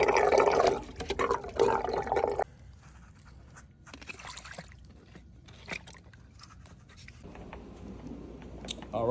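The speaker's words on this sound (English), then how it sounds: "I'm gonna empty the skimmer basket" Water splashes out as a pool skimmer basket and pump basket are emptied: a loud gush in the first few seconds, then quieter trickles and drips.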